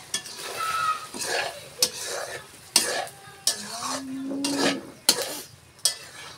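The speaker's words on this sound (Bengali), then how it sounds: "এই যে আছে গরুর বট, এগুলো ভুনা করব।" Beef tripe being stir-fried as a bhuna in a pan gives a soft steady sizzle, repeatedly broken by sharp scrapes and clacks of a spatula against the metal at a regular, unhurried rhythm.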